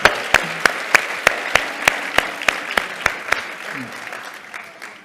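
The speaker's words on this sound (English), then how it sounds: "Big round of applause for Amir." An audience applauds Amir at a financial literacy in education event: a string of sharp, evenly spaced claps in a steady rhythm, ringing in a room and tapering off toward the end.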